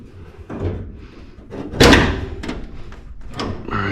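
A Ford Falcon's hood with a hood scoop is lifted open, giving a sharp metallic clunk and rattle amid softer handling knocks, close by and with no voices.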